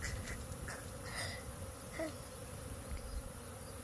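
Bees buzz around a beehive inside a baobab tree: a continuous, quiet droning hum with individual insects passing close now and then, over a soft outdoor background.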